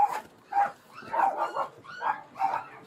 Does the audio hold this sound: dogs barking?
yes